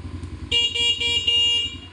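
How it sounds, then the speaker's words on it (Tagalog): A 200cc 4x2 G-Force ATV's horn honks once in a sustained, buzzy blast of about a second, close and loud, over a low idling engine. "Busina natin."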